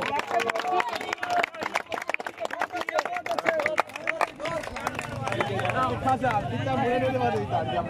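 A crowd at an outdoor kabaddi match clapping in a fast, rhythmic burst, then swelling into cheering and babble, while someone talks loudly over it.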